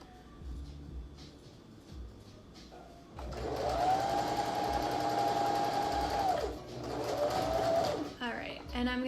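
A sewing machine hums at a steady whirring pace as it stitches around the edge of a fabric face mask, running in one long burst, pausing briefly, then running again, all close and clear.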